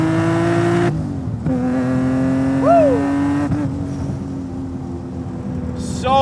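An 850+ horsepower BMW M Coupé accelerates in second gear, its engine note rising in a strong, near drone, dropping briefly at a shift and then climbing again, with a short whistling sweep in the middle.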